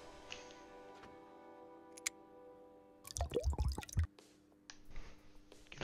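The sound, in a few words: oil dripping while pouring oil in Gas Station Simulator video game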